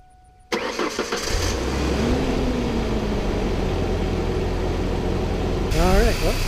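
A 1999 Mazda B2500 pickup with freshly changed spark plugs cranks, fires up after a brief pause and settles into a steady, close idle, with a rev-like rise near the end and someone talking over it.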